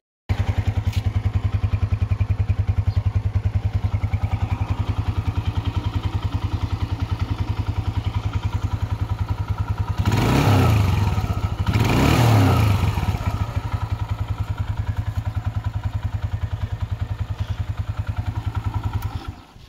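A restored 125cc motorcycle engine idles steadily and close by, with a brief pair of throttle blips partway through before settling back to a smooth idle.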